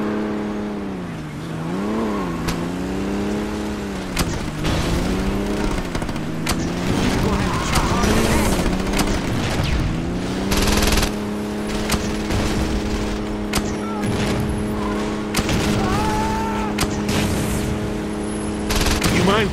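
Saints Row 2 car chase with rapid bursts of automatic gunfire and single shots over a revving, accelerating car engine, loud and close, with voices talking amid the action.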